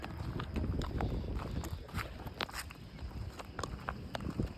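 A white horse being ridden at a walk, its hooves clip-clopping in a steady, fairly close rhythm over faint outdoor background noise.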